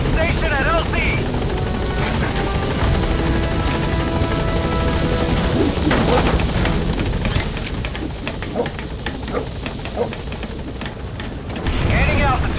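A B-Quad helicopter arriving at a landing zone in Metal Gear Solid V: a loud, continuous rotor roar with rhythmic chopping and scattered gunfire-like bursts, overlaid by radio-style talk.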